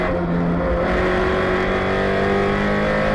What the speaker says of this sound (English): as you brake hard. Downshift.